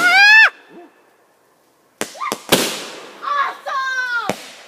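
Fireworks being set off on a fireworks night with friends and family: sharp whistling launches and loud cracking bursts, a few separate shots close by with short quiet gaps between them.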